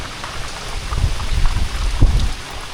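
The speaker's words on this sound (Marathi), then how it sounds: "पाऊस येतोय तो येतोय, त्यासोबत वारा येतोय" Heavy monsoon rain driven by wind in Konkan, a dense steady wash of falling water with gusty low rumbling surges rising and easing, close and fairly loud.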